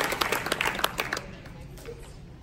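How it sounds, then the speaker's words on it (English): An audience claps for the next speaker at a talk, a burst of close, uneven hand claps that fades out after about a second, leaving quiet room tone. "So clap for Jen from Detroit."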